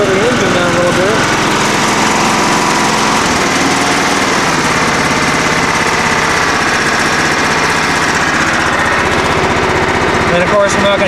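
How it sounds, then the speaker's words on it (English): A John Deere L110 lawn tractor's small engine drones loudly and steadily, its pitch dropping slightly early on as it settles into a lower, slower idle. "Let me slow the engine down a little bit"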